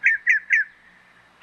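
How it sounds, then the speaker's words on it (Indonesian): Falcon call, three quick sharp descending chirps in a row followed by a pause and the start of another, clear and close with no other sounds. "Falcon."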